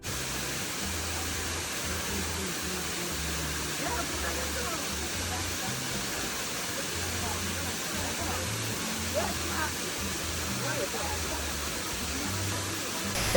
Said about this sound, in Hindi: तो गाइस अभी आप लोगों को दिखाता है यहाँ का वाटरफॉल।